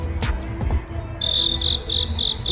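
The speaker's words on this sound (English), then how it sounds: "Crickets." Crickets chirp in a steady, rapid pulsing rhythm, loud and close, after a brief moment of faint background noise.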